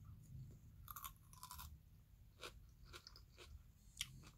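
Crunchy high-fiber food chewed close to the mic, a run of sharp, irregular crunches and bites spaced across a few seconds, quiet and alone.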